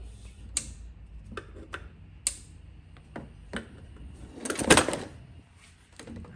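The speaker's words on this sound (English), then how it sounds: "Let me just get that hose clamp off." Metal clicks, scrapes and taps from pliers working a hose clamp loose on a 2003 Honda Accord during PCV valve replacement, irregular and close, with one louder rattling burst near the end.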